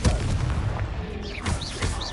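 Confringo, the explosive blasting spell in Hogwarts Legacy, goes off as a couple of loud, booming blasts with crackling bursts amid ongoing game sounds.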